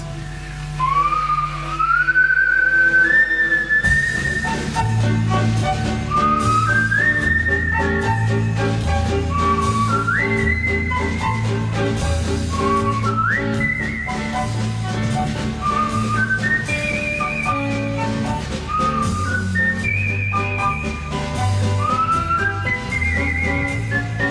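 A person whistles a wandering, melodic tune while working at a computer, steady and clear over a continuous low musical backing.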